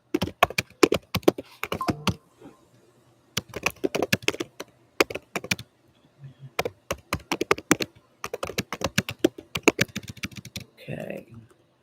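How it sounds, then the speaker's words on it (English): Someone types on a computer keyboard in close, rapid bursts of clicking keys separated by short pauses, with a brief murmur of voice near the end. "let me finish typing this up"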